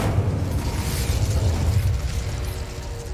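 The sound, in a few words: Incendio fire spell cast, from the video game Hogwarts Legacy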